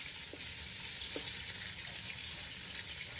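Onions and crushed pepper fry in a pot for collard greens with dumplings, producing a constant hissing sizzle with a couple of faint taps from stirring; no one talks.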